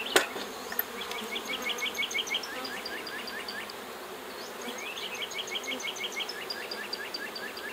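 Honey bees buzz at a hive as foragers bring in pollen, with a continuous close droning hum and occasional individual bees passing near, while faint bird chirps sound in the background.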